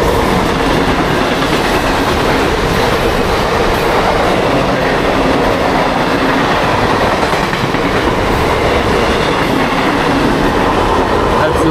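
A train pulls into an Indian railway station with continuous loud rumbling and clickety-clack of rolling wagons, nearby crowd murmur faintly underneath.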